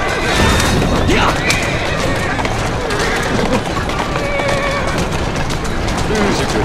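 A horse neighs and whinnies in Assassin's Creed Syndicate over hoof clatter and a busy, noisy scene, with voices talking underneath, loud and continuous.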